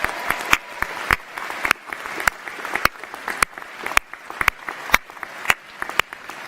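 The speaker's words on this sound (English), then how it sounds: "Give them a massive round of applause." A graduation ceremony audience for a school of arts and media claps in a rhythmic, sparse pattern of sharp hand claps, fairly close and even throughout, with no talking.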